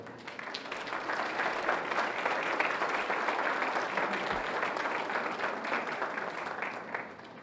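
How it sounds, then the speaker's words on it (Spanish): An audience at a keynote lecture on constitutional reform applauds the speaker, a dense, even wash of clapping that swells, holds steady and tapers slightly toward the end, heard at moderate distance. "Demos un fuerte aplauso a nuestro conferencista."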